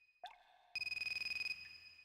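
A phone ringtone in the flood disaster video game Raw Danger: a short chime, then a rapid, pulsing electronic trill ringing steadily at moderate volume, with no talking.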